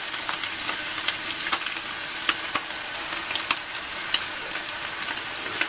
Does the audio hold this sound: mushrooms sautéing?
yes